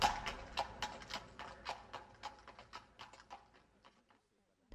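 Horse hooves clip-clop at a steady trot, moving away and fading to silence after about four seconds.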